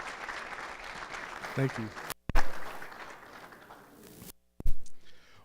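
Audience applause at a university event, moderate and steady for about two seconds, then broken by abrupt cuts and handling bumps, with a brief spoken thanks.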